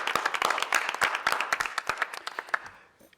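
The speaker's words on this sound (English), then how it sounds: "can you all just join me in a round of applause for them" A room full of people at a city legislation committee meeting gives a round of applause for the presenters: dense, close clapping that holds steady, then thins into scattered claps and fades out by the end.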